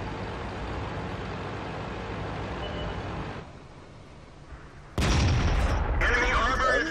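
A tank cannon in World of Tanks fires during a heavy tier 6 TOG battle: a loud, sudden blast cuts in partway through, following steady engine rumble and a quieter lull, with a voice talking over it.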